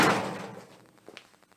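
Drawers of a cheap rolling tool chest, made in the USA, slide in with a loud opening thud that fades, followed by a few lighter knocks and clicks.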